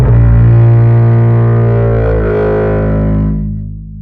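Cello run through FabFilter Saturn2 saturation with drive and envelope-modulated feedback, a sustained gritty, distorted low tone with shifting overtones that thins and fades over about four seconds.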